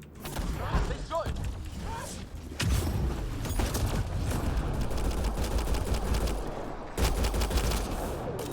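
Rapid gunfire bursts in the sci-fi shooter Mass Effect Andromeda during a firefight, loud volleys of shots repeating across the whole stretch with short pauses between them, mixed with mechanical clatter.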